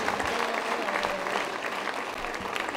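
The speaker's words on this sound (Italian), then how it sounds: "fate gli applausi" A theatre audience applauds a cabaret comedian on stage. The clapping is dense and steady and fills the whole moment with no speech over it.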